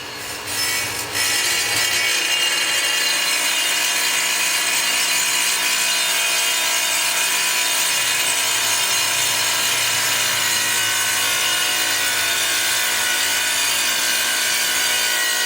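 A saw cuts through granite countertop tile in a steady, continuous grinding whine that runs loud and close from just after the start to the end, with no voices.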